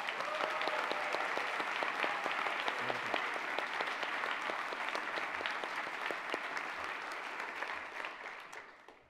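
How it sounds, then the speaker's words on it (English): A convocation audience claps for student performers from a university arts school, sustained dense applause that slowly fades toward the end. "Let's just give them another round of applause."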